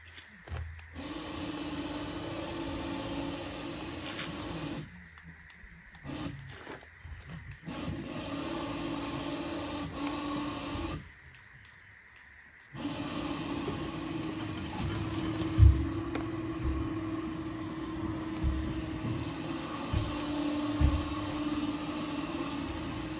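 Electric winch hauling an MGB GT car out of a field, a steady mechanical whine and drone broken by several short pauses, fairly close and loud.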